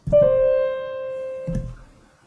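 A quick acciaccatura grace note flicks into a sustained tone that holds and slowly decays, then a second soft attack follows before fading out.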